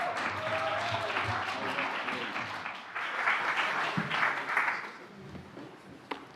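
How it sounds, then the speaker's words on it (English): A conference audience at Zebu Live '24 applauds the next panelists, sustained clapping from a sizeable crowd that rises in the middle and tapers near the end, with faint voices mixed in. "a massive round of applause for the next panelists"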